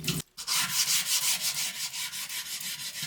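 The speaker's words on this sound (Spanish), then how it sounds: "el aluminio de esta manera se vuelve bastante abrasivo y nos funciona como una lija muy fina" Crumpled aluminium foil scrubs a wet metal kitchen sink in rapid, rhythmic back-and-forth rasping strokes, close and loud, after a brief pause.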